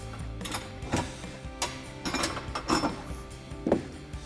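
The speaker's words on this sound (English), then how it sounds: "So now we can go ahead and remove our two nuts that we have left supporting the bumper and fully remove it." Ratchet wrench loosening the last bumper nuts on a Jeep Gladiator JT during a front bumper swap, heard as several short bursts of clicking and metallic mechanism noise at close range over a steady shop background.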